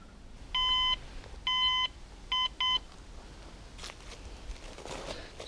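A metal detector sounds four high-pitched electronic beeps outdoors during a coin hunt: two longer tones, then two quick short ones, followed by faint rustling and footsteps, with no speech.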